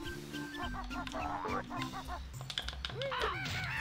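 Cartoonish birds honk and squawk in the Banjo-Kazooie video game, with repeated honks over busy game music and effects and a swooping tone near the end.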